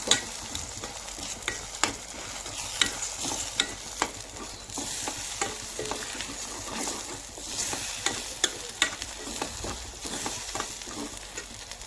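Egg bhurji fries in a pan while a spatula stirs and mixes it. A steady close sizzle runs throughout, broken by regular scraping taps against the pan and no talk.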